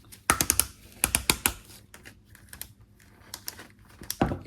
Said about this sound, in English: if you listen closely, all of the joints are